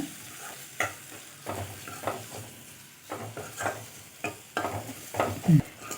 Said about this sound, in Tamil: இது கொஞ்சம் நல்லா கலர் சேஞ்ச் ஆகிற அளவுக்கு லைட்டாக வதக்கி எடுத்துக்கலாங்க